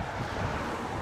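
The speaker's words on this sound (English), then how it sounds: "It's windy again." Gusty wind rumbles steadily against the microphone outdoors for a brief moment, a loud, even buffeting roar with no voices.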